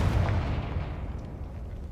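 A Confringo spell blast in Hogwarts Legacy lands as a deep, muffled boom that rumbles off and fades over a couple of seconds.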